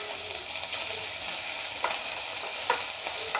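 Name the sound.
ginger-garlic paste frying in hot oil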